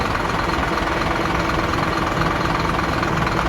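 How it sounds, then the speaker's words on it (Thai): A used Scania five-cylinder engine in a 360-horsepower dump trailer truck idles steadily up close, a loud, low, continuous rumble with a rough, shaky vibration. "เสียงเสียงเครื่องมันสั่นๆติด"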